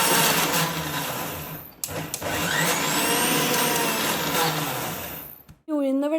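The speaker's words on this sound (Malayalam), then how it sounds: "1 ടേബിൾ സ്പൂൺ വെള്ളം മാത്രം മിക്സിയുടെ ജാറിൽ അങ്ങനെ അടിച്ചെടുക്കലാണ്" A mixer grinder jar whirs as it grinds soaked urad dal with a tablespoon of water for uzhunnu vada, a loud steady motor drone with brief dips and stops, followed by a short voice at the end.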